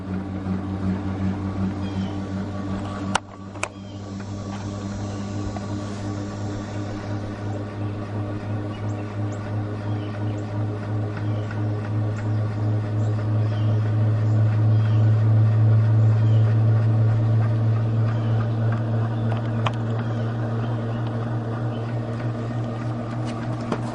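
A homemade free energy generator spins up with a steady motor-like hum that swells in loudness and pitch toward the middle before settling, with a couple of sharp clicks early on.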